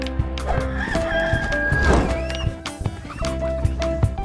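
Roosters crow loudly nearby, with several overlapping calls and clucking from other fowl in a busy farmyard.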